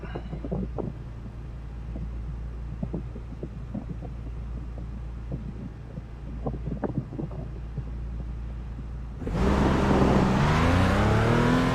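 Porsche Cayman GT4 engine lapping the Nurburgring in a racing sim game, a low steady drone that swells into a loud rising rev partway through, with scattered clicks over it.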